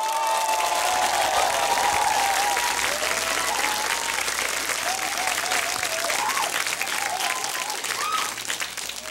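A large audience at a Vietnamese music show applauds a songwriter with a long, loud, sustained roar of clapping and some cheering, while faint music and a voice hover underneath.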